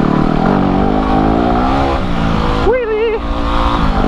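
Motorcycle engine revving loudly and steadily up close during an attempted wheelie on an off-road trials-style bike, with a brief shouted voice partway through.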